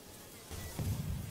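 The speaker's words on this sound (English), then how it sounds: "I can't stop being chased by this bee." A bee buzzes in the Roblox game Plates of Fate as it chases the player, a steady insect drone that rises in loudness partway through and continues alone.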